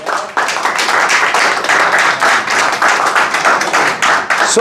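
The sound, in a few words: applause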